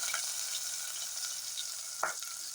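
Onions and green chillies frying in hot oil with tempering spices, a steady close sizzle with one brief louder stir or clatter near the end.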